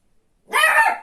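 A small puppy barks once at a passer-by outside a window, a single sharp, high yip that is close and loud after a moment of near silence.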